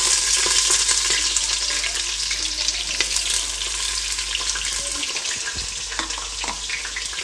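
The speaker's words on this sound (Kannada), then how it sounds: "ಈರುಳ್ಳಿದು ಹಸಿ ವಾಸನೆ ಹೋಗೋವರೆಗೂ ಒಂದು ಸ್ವಲ್ಪ ಫ್ರೈ ಮಾಡ್ಕೊಳ್ಳಿ" Onions sizzle loudly in ghee with mustard seeds and curry leaves for tomato bath, a steady, dense hiss with faint crackles and spatter running throughout, close and continuous.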